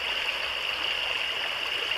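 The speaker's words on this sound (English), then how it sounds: "the creek is still running very high" A creek running high after recent rain, giving a steady, loud, close rushing of water with no pauses and no voices.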